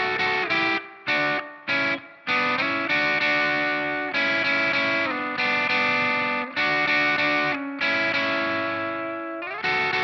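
Electric guitar plays a full solo in a distorted, chorus-laden tone, with sustained bent notes and brief pauses between phrases, close and loud and without any talking.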